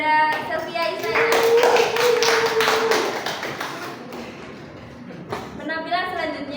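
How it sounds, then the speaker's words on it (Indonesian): Hand clapping rises from a school Ramadan gathering's audience after a student's performance, a dense burst of claps over a sustained voice, then fading as talk resumes. "Mari beri tepuk tangan sekali lagi untuk Ananda Sylvia Isaya."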